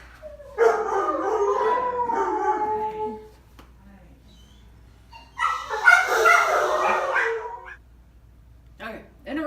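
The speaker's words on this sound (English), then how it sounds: "The dogs always have something to say." Dogs howl and yip in long, wavering bursts, pause briefly, then break into a second louder round of howling and barking, with a person speaking at times.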